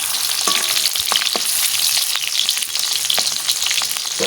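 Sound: chicken with pointed gourd (potol) frying and sizzling in pan

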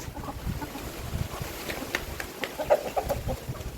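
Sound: chickens clucking

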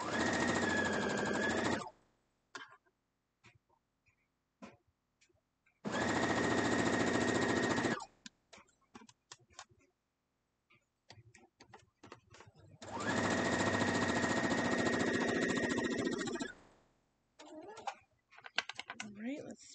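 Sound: sewing machine stitching quilt block pieces

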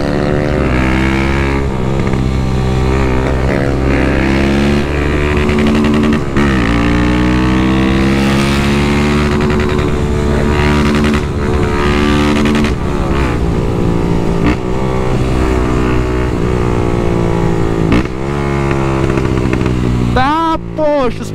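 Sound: Honda CB300F Twister 2023 motorcycle with Dore exhaust, revving

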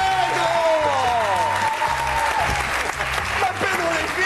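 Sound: audience applause welcoming a guest on a TV show

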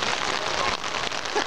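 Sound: rain falling

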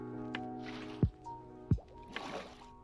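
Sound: water being poured in Minecraft video game

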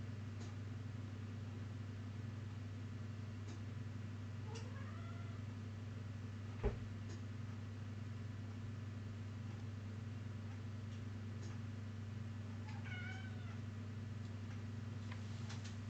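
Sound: cat meowing

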